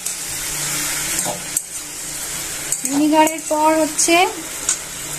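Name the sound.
mushrooms frying in a pan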